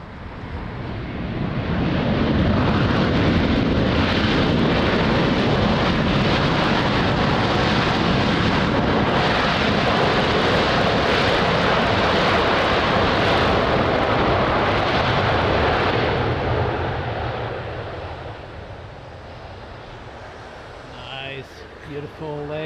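A fixed-wing airliner lands at Lisbon Airport, heard as a loud sustained broadband roar with wind buffeting that swells over several seconds, then fades to quieter background near the end.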